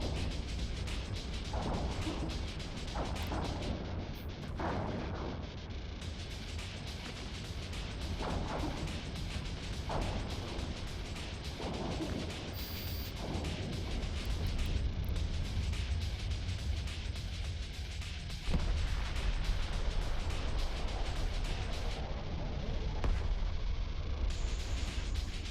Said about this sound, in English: Pretty explosions.